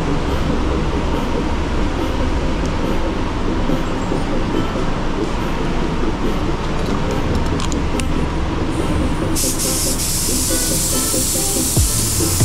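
Steady, loud hissing of a Sata Jet 5500RP spray gun applying metallic blue Glasurit 100 Line car paint runs continuously throughout, with a brighter burst of spray near the end.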